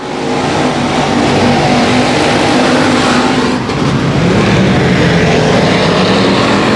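Race cars roar past at 281 Speedway while battling for the lead on the final lap, a dense, continuous engine howl that swells and fades as the pack sweeps by.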